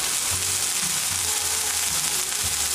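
Beef sliders cooking in salt on a griddle give a steady, loud, close sizzle that fills the whole moment without a break, with faint low bubbling underneath and no voices.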